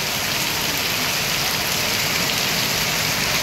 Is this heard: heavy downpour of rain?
yes